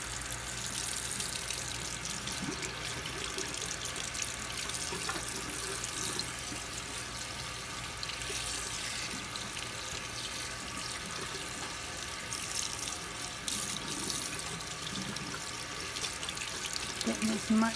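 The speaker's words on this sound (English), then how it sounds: "I'm just using cold water because I'm going to leave it running this whole time." Cold water runs steadily from a tap while fire-damaged sentimental items are rinsed under it, a continuous close hiss and splash that holds level throughout, with faint talk at times underneath.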